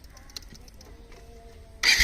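A motorcycle engine treated with Liqui Moly Shooter engine flush stays quiet at first, then fires up abruptly at the very end with a loud burst of starting noise.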